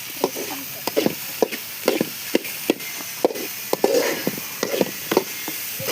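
Tomato and red chili sauce with pepper masala sautéing in a pan for fried rice: soft sizzle under regular sharp taps and scrapes of a spatula against the pan, close, no talk.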